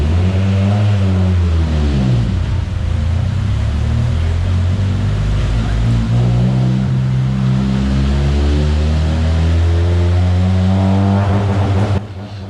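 Car fitted with a Garrett G42-1200 turbo revving hard on a dyno, very loud. The engine's pitch sweeps down, climbs and sweeps again in a sustained roar before cutting off abruptly at the end.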